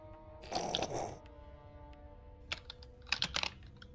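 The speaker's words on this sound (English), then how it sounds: "That keyboard's so loud." Loud clattering bursts of computer keyboard typing, two flurries of rapid keystrokes separated by a quiet pause, picked up close on a gamer's microphone.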